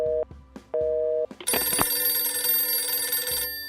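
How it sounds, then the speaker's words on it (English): A phone in a video game rings in repeated short electronic trills, two clear ring bursts followed by a denser, louder ringing stretch, close and alone without talk. "Party phone is calling."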